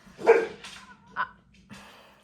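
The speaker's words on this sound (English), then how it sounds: "Hold on, the dogs." A dog visiting a home gives a few sharp barks close by, two or three separate yelps with short pauses between them, heard alone with no talk.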